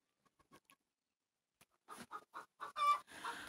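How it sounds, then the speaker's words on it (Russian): Soft, close clucking from a few chickens, starting with faint scattered clucks and building into a run of louder, quick calls near the end. "А наши курочки настоящие, которые наши кормильцы, вот они сидят."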